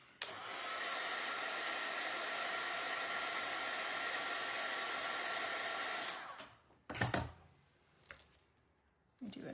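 A hand-held dryer blows steadily for about six seconds to dry fresh paint on a wooden hutch, a loud even whir that cuts off, followed by a few brief clunks and handling knocks.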